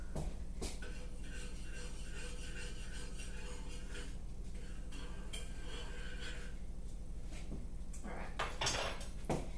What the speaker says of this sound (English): I'm just gonna give my sweet chili sauce a little bit of a stir just to start it off.